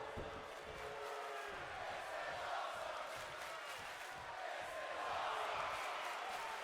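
A simulated arena crowd in a wrestling video game cheers steadily at moderate volume, a continuous wash of massed voices that rises slightly toward the end.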